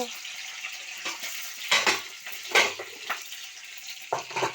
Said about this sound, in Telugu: బాగా వేగనివ్వాలి. అది వేగనివ్వాలి.